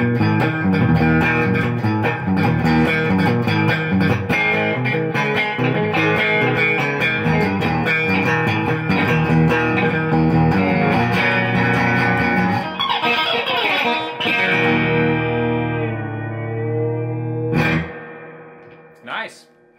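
A new Fender electric guitar played through a reissue Fender Deluxe Reverb tube amp, with a warm, amplified tone, plays chords and riffs continuously, then lets a final chord ring and fade before a short last strum.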